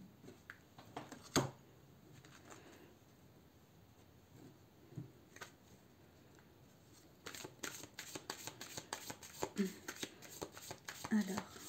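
Tarot cards are shuffled in bursts of quick riffling and soft papery slaps, starting sparse and growing busier, while a voice speaks quietly throughout.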